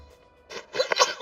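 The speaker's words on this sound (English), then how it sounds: "Oh, I sneezed." A single sharp sneeze bursts out close by at a tabletop Dungeons & Dragons game session, a short intake then a loud explosive release, with no talking during it.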